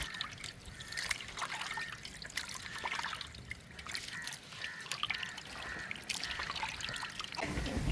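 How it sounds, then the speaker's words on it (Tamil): Water trickles and splashes softly as freshly cut fish pieces are rinsed clean, a faint steady running-water sound with small uneven spatters and no talking. "இப்போ மீனை வெட்டி நல்லா சுத்தமாக அலசிக்கிட்டு இருக்கும்."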